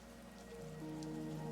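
Soft, steady rain patters in the video game The Gardens Between, a quiet wash of drops with faint tonal music sustained underneath.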